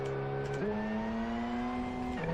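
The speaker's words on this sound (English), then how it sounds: "I may have just broken my car by downshifting a little bit too much" A car in Scrap Mechanic drones with a steady, buzzing engine note that jumps up in pitch as a gear drops, holds at higher revs, then falls back, with no voices over it.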